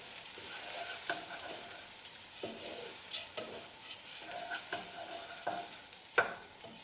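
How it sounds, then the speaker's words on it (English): Drained red lentils are stirred into onion and spices in a pan, giving soft scraping strokes and light clinks of a spoon over a faint, continuous sizzle. "And I'll stir them through the onion and the spices."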